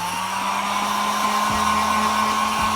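A heat gun blowing hot air, a loud, steady, close whooshing roar with a constant motor whine that holds unchanged for the whole stretch, no voices over it.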